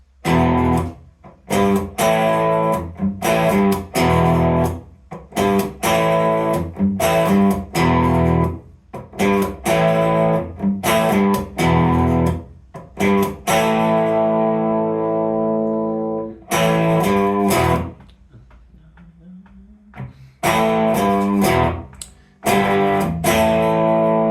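A heavily distorted electric guitar plays a chugging rock riff in short, punchy bursts with brief pauses, loud and close, no voices.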